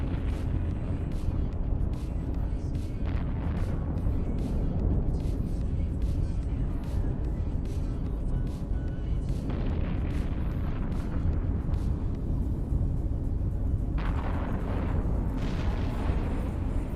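Torpedo explosions in the EVE Online space game, a continuous heavy rumbling roar with repeated muffled booms and bursts layered through it, loud and dense throughout.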